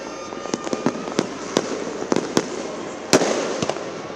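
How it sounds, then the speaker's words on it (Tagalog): A New Year fireworks display in front of the Minor Basilica of the Immaculate Conception: sharp loud bangs and crackles bursting in quick succession over a steady background rumble, with no talking. "nagliwanag ang kalangitan sa inihandang fireworks display sa harap ng Minor Basilica of the Immaculate Conception"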